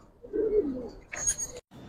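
Giribaz pigeons in a loft giving a short low throaty coo, close and fairly clear, followed by a brief rustle or flutter, no speech.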